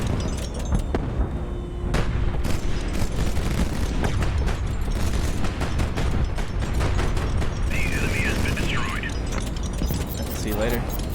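Rapid clattering fire from 57mm and 37mm cannons in the video game Highfleet, dense mechanical bursts over a steady roar, with a person talking throughout.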